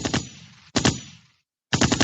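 Three rapid bursts of gunfire, each a tight cluster of sharp shots followed by echoing decay, separated by brief pauses.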